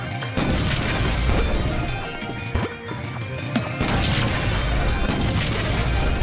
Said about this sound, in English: Save this rubber bomb.